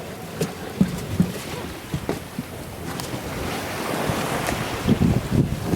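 A sailboat on a running reach with the genoa out in about 12 knots of trade wind off St. Thomas, with steady wind rush and water washing along the hull, broken by a few soft knocks and splashes.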